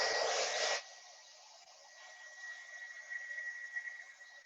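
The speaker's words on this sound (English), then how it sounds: "We're going to work with our hair dryer. Now we're just going to work on medium speed," Hair dryer running on medium speed and medium heat while hair is dried in a salon masterclass, a loud burst at first then a steady, softer broadband whoosh with a faint whine throughout.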